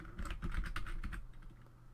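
Rapid keystrokes on a PC computer keyboard as a command is typed, a quick irregular burst of clicky taps that thins out toward the end, close and fairly quiet with no talking.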